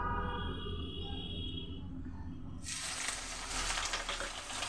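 Chopped onions hit hot oil in a pan while chicken curry is being cooked at home; after a low hum, a sudden loud, bright sizzle bursts in and keeps crackling steadily.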